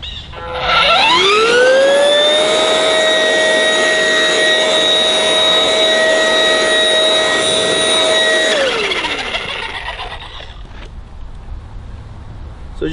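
A Ryobi 40 volt Expand-It blower attachment spins up to a loud, steady high-pitched whine, holds it for several seconds, then winds down as the motor coasts to a stop.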